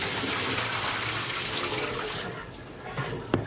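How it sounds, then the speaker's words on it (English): Water pours out of a pot of cooked potatoes as it drains into a sink, a steady rushing splash that tapers off toward the end, followed by a faint knock. "we'll drain the water."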